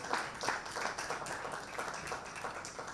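Audience applause following a keynote speech at a live event, a steady wash of many hands clapping throughout with slight rises and falls, fairly loud and close, no talking over it.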